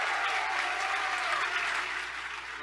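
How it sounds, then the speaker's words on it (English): A crowd at a live speaking-tour event gives sustained applause, a dense even wash of clapping that holds steady for the whole stretch with no talk over it. "Come on, give them a round of applause."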